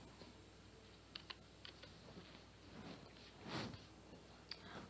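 Faint typing on a computer keyboard while filling in form fields in Excel, scattered soft key clicks with irregular rhythm and a slightly louder burst near the end, no speech.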